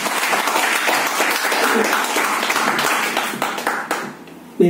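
An audience at an office testimonial event in Dadar bursts into loud, dense applause, steady clapping from many hands that holds for a few seconds before quickly dying away.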